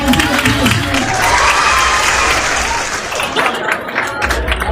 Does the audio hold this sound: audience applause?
yes